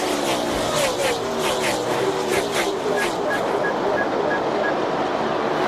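NASCAR stock cars at the 2003 Samsung RadioShack 500 roar into a single-file green-flag restart, loud engines revving and building in pitch as the field accelerates, with a commentator talking over the noise.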